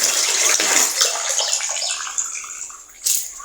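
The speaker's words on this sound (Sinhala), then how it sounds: "ඊට පස්සේ ඒ වතුර ටික පිරෙව්වා." Water rushes steadily into a homemade fish tank, a loud continuous gushing flow that tapers slightly near the end.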